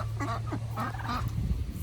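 Turkeys in a backyard garden give short, loud, honking gobbles and clucks in quick succession close to the mic, over a steady low hum.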